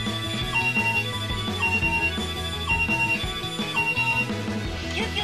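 Electronic chime sound effect from a Tomica Town toy fire station, a tinny jingle-like alarm melody of repeating beeping tones, fairly quiet and alone.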